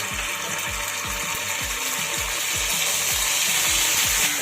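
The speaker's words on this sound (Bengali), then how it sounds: "আদা রসুনটাকে একটু ভেজে নেব যতক্ষণ না পর্যন্ত আদা রসুনের কাঁচা গন্ধটা চলে যায়" Ginger garlic paste fries in hot oil with a loud, constant sizzle. A regular rhythm of scraping, knocking stirs against the pan repeats about twice a second, close up, and no one talks.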